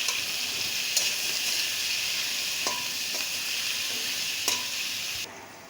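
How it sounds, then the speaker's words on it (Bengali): Pumpkin is stirred in a hot pan with salt and turmeric, a steady sizzle under scraping stirs, with a few sharp clinks of the spoon against the pan. "আর দিয়ে দেবো অল্প একটু হলুদের গুঁড়ো, দিয়ে এটা ভালো করে মিশিয়ে নেব।"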